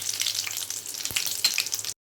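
Green chilies hit hot oil during tempering for mango kadaiyal, a bright crackling sizzle that holds steady for about two seconds before cutting off abruptly.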